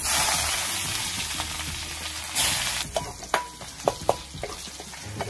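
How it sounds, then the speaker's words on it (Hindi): Onion and salt frying in hot oil in a village kitchen, with a steady loud sizzle throughout and a few sharp spattering pops and stirring clicks toward the end, close and with no talk. "तेल गरम हो गया ये रहा देखिए अभी दे रहा हूँ नमक चलिए नमक दे दिया है और इधर देखिए थोड़ा सा प्याज"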